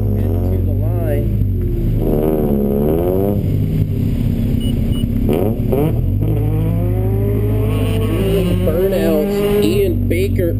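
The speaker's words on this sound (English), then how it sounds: "Burnouts" Cars doing burnouts at an autocross event, including a Honda CRX, with loud continuous engine revving and tire roar close by under a running announcer's commentary.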